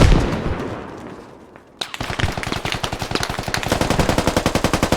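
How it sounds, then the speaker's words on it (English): Automatic weapon fire in a tactical shooter game: a long run of rapid, evenly spaced loud bursts follows a quieter stretch and one sharp report, continuing close and unbroken to the end. "Peabody gets shot at by Chris Webb."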